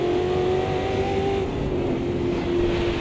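A race car engine in Automobilista 2 drones loudly at steady high revs, its tone holding and rising slightly while accelerating on a wet track, close and continuous without talk.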